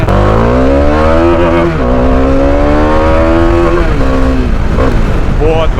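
A Bajaj Dominar 400 motorcycle on a test ride: its engine holds a loud, steady drone with rising and falling pitch as it revs and shifts, close to the microphone, with faint voices in the background.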